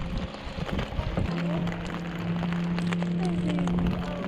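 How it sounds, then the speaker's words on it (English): Heavy rain pours onto Smoke Lake in Algonquin during a storm, a dense steady hiss of drops on water with a low droning hum running through it, close and continuous. "It sure is raining."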